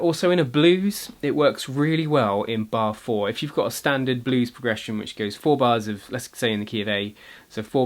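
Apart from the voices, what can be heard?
No everyday noise stands out behind the speech.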